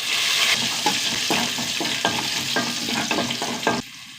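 Mustard seeds, shallots and dried chillies tempering in hot oil make a close, steady sizzle. A spoon scrapes and taps the pan in a regular rhythm, with no talking.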